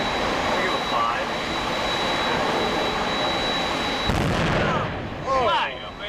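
A big gun on the battleship USS Missouri fires a single booming shot heard at a distance, following a long stretch of broad, windy background noise. Excited voices react right after the blast.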